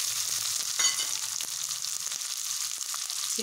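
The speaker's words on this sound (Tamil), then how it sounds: "எண்ணெய் காஞ்சிருச்சு, கடுகு போட்டாச்சு, அதுக்கடுத்து கொஞ்சோண்டு சீரகம், சீரகம் போட்டோடனே நம்ம வெங்காயம்" Mustard seeds, a little cumin and shallots fry in hot oil, giving a steady close hiss with faint scattered pops and the odd light clink from the pan, with no voices.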